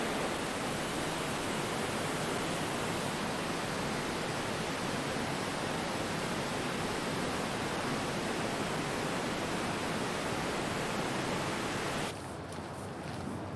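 Niagara Falls in winter, a steady, full-bodied roar of falling water that holds even and unbroken for around twelve seconds, then drops abruptly to a quieter level.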